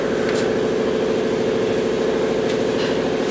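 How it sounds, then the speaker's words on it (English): Air compressor running in a workshop, a loud steady mechanical drone with a fast pulsing throb, continuous throughout with no talking. "there goes the air compressor right on cue"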